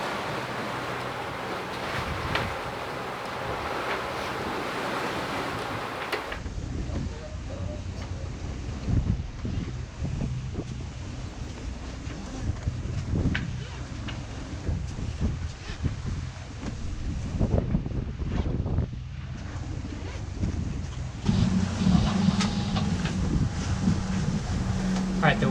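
Steady wind roars and buffets past a sailing boat at sea off Indonesia, with wash and surf underneath and a constant, close, blustery hiss throughout.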